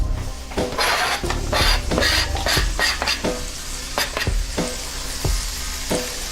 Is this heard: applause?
no